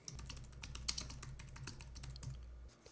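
Typing on a computer keyboard, a quick, steady patter of soft key clicks lasting a few seconds over a low hum, quiet and close.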